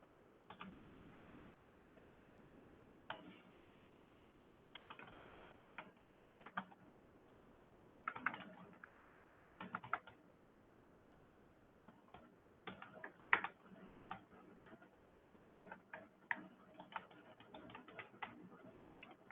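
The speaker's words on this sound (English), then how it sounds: "Please raise hand after you finish typing" Typing on a computer keyboard during a practical class session, quiet irregular bursts of key clicks with pauses, faint and close, no talking.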